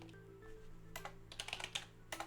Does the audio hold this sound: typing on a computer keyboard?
yes